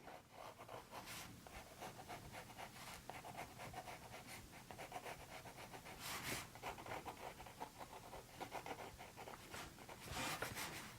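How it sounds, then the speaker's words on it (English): A pencil sketches branches on paper for a watercolor vase drawing: faint, close scratchy strokes in short repeated bursts, quiet and uneven, with a few slightly stronger rubs. "So let's quickly sketch some branches."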